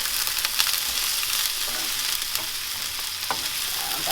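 Onions for a vegan burger sizzle steadily in a frying pan, with a few soft scraping tosses audible over the constant hiss.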